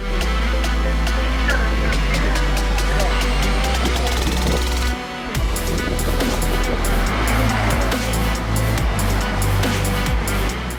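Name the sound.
race cars starting race at Le Castellet circuit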